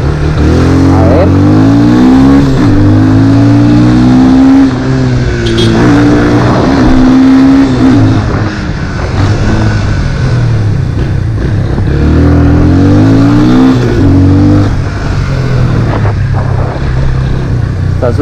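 A Yamaha FZ 25 motorcycle with about 12,000 km accelerates hard from a standstill toward 100, its engine note climbing through the gears in loud, close revving sweeps with brief dips at each shift.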